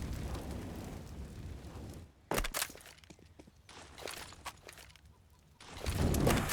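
Grenade explosion in a video game: one sharp, loud blast in the middle of a noisy, rumbling stretch of gameplay, followed by scattered softer impacts and a rising wash of noise.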